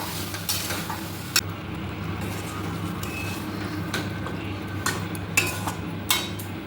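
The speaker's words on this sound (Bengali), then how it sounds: "তো যেহেতু আমি এখানে চিকেন কষা করছি, তো এটাকে কিন্তু প্রায় আধা ঘন্টা লেগে যাবে কষাতে।" One kilogram of chicken cooking with spices for chicken kosha, a soft continuous sizzle under the clatter of a utensil stirring and tapping against the pan.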